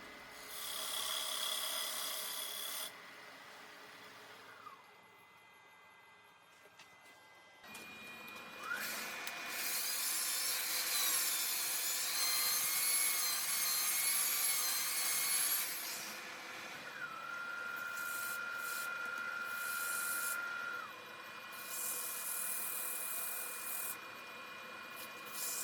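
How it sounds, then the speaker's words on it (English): Skew chisel laid on its side cutting a dovetail recess into a spinning wooden bowl on a lathe, a steady raspy scraping with a constant motor whine beneath, pausing briefly then resuming with a sharper cutting tone. "Here I'm just using the skew on its side just to create the dovetail."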